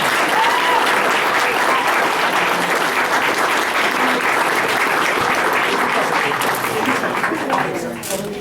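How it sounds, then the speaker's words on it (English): Loud, steady audience applause and crowd noise fill a Comic-Con cosplay contest hall, holding strong for about eight seconds before dipping slightly at the end. "why don't we give him a big round of applause?"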